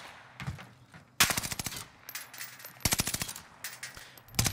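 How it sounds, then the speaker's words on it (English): Gunfire in Call of Duty Warzone on Rebirth Island: loud automatic bursts of rapid shots in three or four clusters separated by brief pauses, with faint game ambience between. "I'm just going to shoot this guy in the air."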